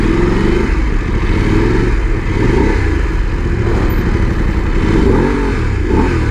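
A Voge 900DSX motorcycle in sport mode gives off a loud, steady engine roar. It revs aggressively and continuously up close, with a mechanical clatter underneath.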